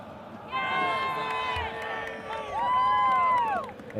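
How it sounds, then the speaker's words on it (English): A crowd at an amateur over-30 football semifinal cheers and shouts in swelling, voiced whoops, fairly close, with excited voices rising and falling. "And you could probably hear some cheering here."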